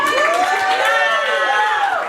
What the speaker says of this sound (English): Moment of applause for the Minecraft movie.